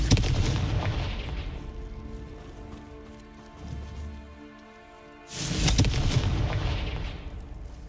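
A Confringo explosion spell goes off in Hogwarts Legacy as two heavy, rumbling blasts, each followed by a long crackling decay, with a quieter stretch between them.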